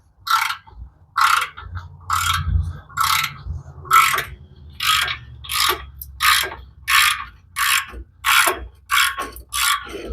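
Bolts being undone with a ratchet on a 1995 Camaro Z28 during transmission removal: a steady series of about fourteen crisp clicking ratchet strokes in an even rhythm, close and clear over a low background rumble.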